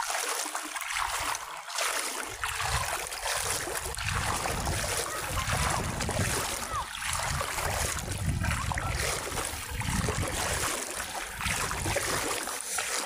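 A fast river current rushes steadily and loudly in winter, a continuous broad wash of water that stays close and unbroken for the whole stretch.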